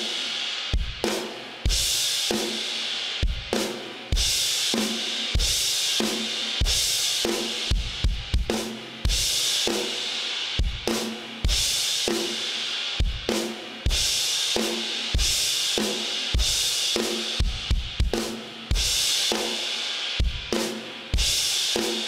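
A drum kit plays a steady groove, with bright crash cymbal hits on the downbeats, snare backbeats and a syncopated bass drum figure, loud and continuous, with no voices.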